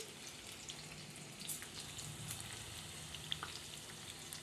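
Chili chicken pieces fry gently in a pan over a low gas flame, giving a soft, steady sizzle with scattered small pops and crackles throughout.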